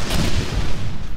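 Loud, dense booming explosions from the video game Bridge Constructor Portal, a rumbling burst of blasts with no talk over it.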